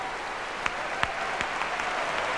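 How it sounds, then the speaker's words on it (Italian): An audience applauding in an Italian sports hall during a pageant evening, a steady, even wash of many hands clapping, moderately distant, with a few sharper claps standing out. "faceste l'applauso più affettuoso, più caldo."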